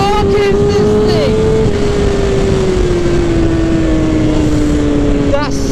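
A 2007 Suzuki GSX-R1000 liter bike accelerates hard in second gear, its loud sustained engine whine close and constant, mixed with rushing wind. A rider's excited voice exclaims over it.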